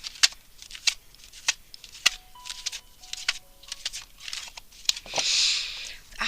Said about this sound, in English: Just give it a shuffle here.